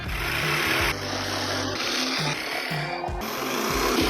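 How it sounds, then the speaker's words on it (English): A jigsaw cuts through wood in a continuous loud rasping buzz, with the blade's pitch and load shifting as the cut progresses and briefly dipping in intensity, with no voices. "So now we'll finish up with the jigsaw."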